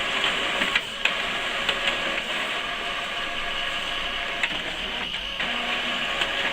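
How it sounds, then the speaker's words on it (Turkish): An HP Pro X476 ink-tank inkjet printer whirs steadily with a mechanical hum, punctuated by small clicks and clunks at regular intervals as pages feed through, about one full-density page per second. "Gördüğünüz gibi yaklaşık 1 saniyede bir sayfa tam yoğunlukta çıktı almaktadır."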